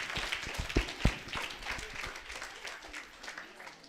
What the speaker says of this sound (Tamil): எல்லாரும் கைதட்டுவோமா?